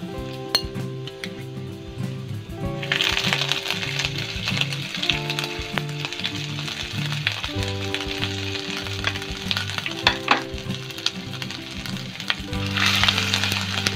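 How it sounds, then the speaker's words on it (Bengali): Chopped garlic and ginger hit hot oil for a loud, continuous sizzle, with the clinks of a metal spoon against the pan and brief stirring scrapes along the way; no voices. "তেলটা ভালো রকম গরম হয়ে গেছে, এরপর রসুন কুচিটা দিয়ে দিচ্ছি।"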